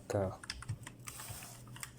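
Typing on a computer keyboard, a quick scatter of close clicky keystrokes with a brief voice at the start and a faint background hum.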